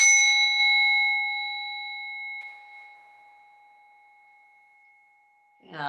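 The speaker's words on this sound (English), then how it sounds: "I've got a little gong here that" A small singing bell gong struck once during a yoga class, ringing out with a clear sustained tone that slowly fades over several seconds before a voice begins at the end.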